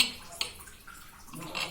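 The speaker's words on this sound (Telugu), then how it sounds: "ఇలా వాటర్ పోసేసి" Water is poured briefly into a container, giving a short splashing trickle with a couple of sharper drips, close by and fairly quiet.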